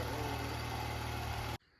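Ford Fusion engine idling steadily after a loose spark plug was fixed and the plug replaced, a smooth even hum heard up close with no voices, cutting off abruptly near the end.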